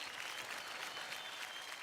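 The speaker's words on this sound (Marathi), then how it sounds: "जोरदार टाळ्या होऊन जाऊ दे हिराकसाठी" Steady, dense audience applause at a televised dance competition stage show, sustained and even throughout with no pauses or speech.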